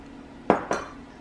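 Almond flour, baking powder and sweetener go into a bowl over melted butter, marked by two quick, close clinks of a utensil against the dish, a moment apart, in a quiet kitchen.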